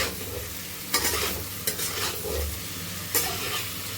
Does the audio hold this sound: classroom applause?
no